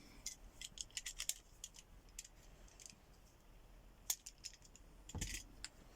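A knife snipping through a window blind cord, a few faint, sharp cutting ticks and clicks scattered across a quiet close-up, with one slightly fuller snap near the end.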